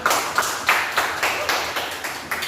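Classroom students clapping for a group, a brisk rhythmic burst of claps close by, fairly loud and without talk.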